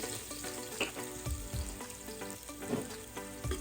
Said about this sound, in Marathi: आता मी 7 ते 8 आहे ना लसणाच्या पाकळ्या अशा बारीक करून घेतल्या आहेत, ती तेलामध्ये घालून घेते